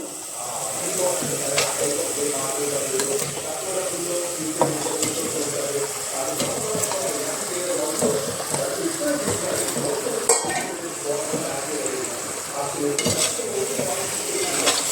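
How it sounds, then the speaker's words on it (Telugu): Fish pieces stirred into a village-style fish curry simmering in oil, giving a steady, close sizzle with repeated scraping and clinking of the spoon against the pan throughout. "మనం చేప ముక్కల్ని వేసుకొని కలుపుకుందాము."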